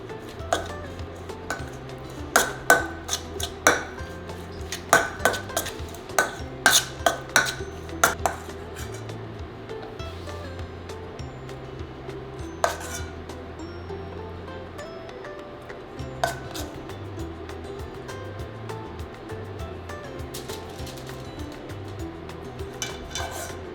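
Pepper jack cheese is stirred into a jalapeno popper filling in a bowl, a spoon clinking and scraping against the dish in irregular bursts, busier early on and then quieter, with faint background hum.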